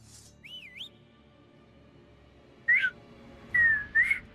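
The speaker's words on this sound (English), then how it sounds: "I'm bad at whistling" A person whistles short sliding notes: one wavering phrase, a pause, then two more brief bursts, fairly close and moderately loud over a quiet background, with no talking.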